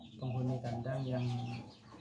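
Close and fairly quiet, a 1.5-year-old rooster in its coop gives a drawn-out, wavering cluck that lasts nearly two seconds with a short dip in the middle.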